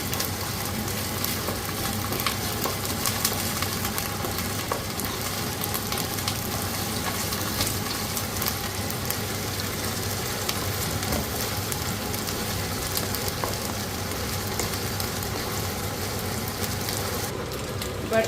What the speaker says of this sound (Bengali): 2 চামচের একটু বেশি জিঞ্জার গার্লিক পেস্ট দিয়ে দিলাম। দিয়ে ভালো করে মশলাটার সাথে মিশিয়ে নিচ্ছি।